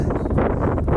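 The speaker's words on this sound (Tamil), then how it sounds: "காற்று வேற லெவலில் அடிக்குது" Strong wind at the Yelagiri hill viewpoint buffets the microphone in a continuous low roar, loud and close, with no voices.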